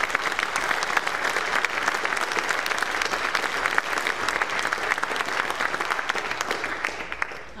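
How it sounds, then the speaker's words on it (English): A school audience claps steadily for graduating eighth graders, full continuous applause that holds for several seconds and eases slightly at the end. "Let's give them a round of applause."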